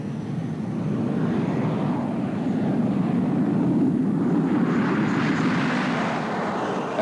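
An F-18 fighter jet roars overhead in a steady, sustained engine rush with a broad rumbling wash that swells slightly midway, heard alone without voices.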